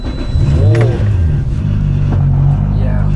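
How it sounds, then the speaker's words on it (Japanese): Turbocharged 2JZ engine of a 650-horsepower Toyota Supra JZA80 with a TO4Z full-turbine kit catches and blips in a quick rising rev, then settles into a loud, lumpy idle that stays close and steady. "じゃあちょっと 2JZ のエンジンの音を聞かせてください"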